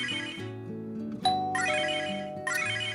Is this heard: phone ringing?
yes